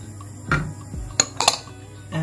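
Diced carrot and green beans tipped into a pot for a vegan coconut chickpea curry, giving a few sharp metallic clinks and knocks of utensil against pot, scattered and close, with no talking.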